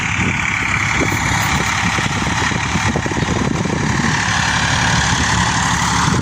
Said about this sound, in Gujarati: કપાસની અંદર હાકી રહ્યા છે મોટું ટ્રેક્ટર